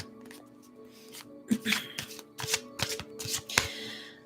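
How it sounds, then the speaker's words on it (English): A deck of tarot cards is shuffled up close, its rapid riffling bursts and soft slaps coming in quick uneven clusters. "I'm going to shuffle the cards real quick."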